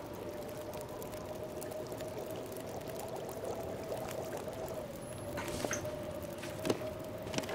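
Steady pouring, bubbling water sound from melting snow and boiling water in the survival game The Long Dark, a faint continuous wash with a few small clicks near the end.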